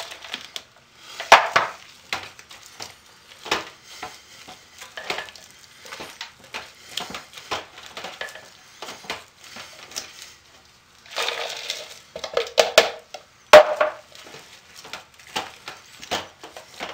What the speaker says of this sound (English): Stirring it and mashing it till everything gets incorporated and all those embeds have soap around them to hold them in place.